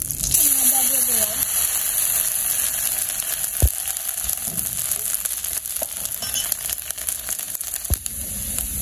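Chopped ginger sizzles and fries in a pan over a village cooking fire, a steady broadband hiss with occasional sharp clicks and thumps, quite loud and continuous throughout.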